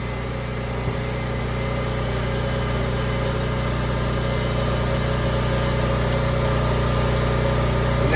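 Riding mower engine idling steadily at a constant pitch, loud and close, with a continuous mechanical drone and no voices.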